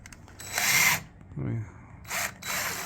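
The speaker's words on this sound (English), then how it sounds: "we're going to put some screws, and he's drilling it." A power drill whirs in short bursts, driving 3-inch screws into a wooden door jamb with pauses between runs, and a brief low voice sounds in the middle.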